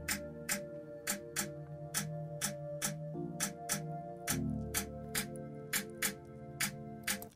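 Beat with a sustained pad and a newly added snare, the snare cracking in a steady regular pulse over the held pad chords, which shift to a deeper tone midway; quiet overall, no voices.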